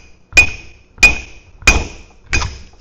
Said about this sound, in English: So when I tap the cap, the U-joint needs to move along with the cap.